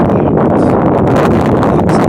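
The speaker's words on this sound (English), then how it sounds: "We've got a windy day here on the ridge." Heavy wind pummels the microphone on a ridge beside a pasture, with loud, continuous rumbling gusts and crackling buffeting, drowning out everything else.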